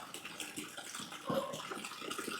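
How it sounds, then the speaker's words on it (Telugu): Water pours and splashes into bran feed being mixed for buffaloes in a village, a steady running, sloshing wash that lasts the whole stretch and swells a little partway through, with no talk. "కొంచెం నీళ్లు కలిపి ఈ మడ్డాన్నం ఇప్పుడు అందులో వేసేస్తాడు చూడండి"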